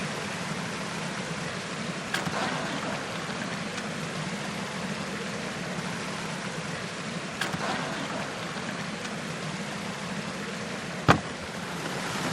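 Water rushes steadily through a gold sluice set in a Welsh river, a dense broadband hiss of aggressive flow with a few faint knocks, no voices.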